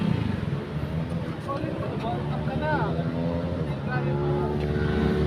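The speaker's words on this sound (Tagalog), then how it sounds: "Tignan nyo yung mga nagbabangking." Outboard motorboats pass on water at Marilaki, Tanay, Rizal, a steady engine drone with rising and falling whines, mixed with people talking nearby throughout.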